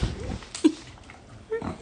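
A dog at a birthday celebration makes short whimpering, snuffling sounds, close and brief, in two small bursts.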